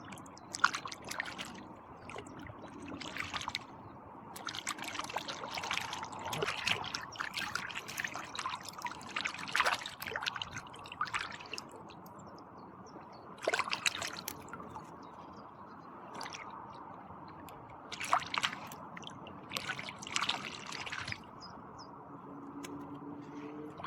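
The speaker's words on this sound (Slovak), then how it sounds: "my si ideme teraz tie topinambury trošku najskôr opláchnuť do rieky" Jerusalem artichokes being rinsed in an icy river give irregular bursts of splashing, dripping and trickling water over a constant flowing stream, close and moderately loud, with no talk.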